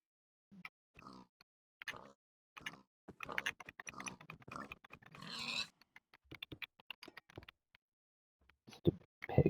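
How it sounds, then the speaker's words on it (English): Grunts from a pig in the Minecraft video game come in short, scattered bursts alongside keyboard tapping, with quiet gaps in between. "Stupid pig."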